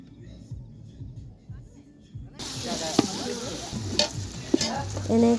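Turmeric, ginger and garlic hit a hot pan with meat for a New Year's Eve party meal. Quiet scraping gives way to a loud, continuous sizzle and hiss as a spoon stirs with occasional clinks, and voices are faintly present.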